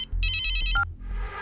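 A phone ringtone plays loudly and close: a bright electronic chiming melody, then a shorter two-tone chirp, over a low hum.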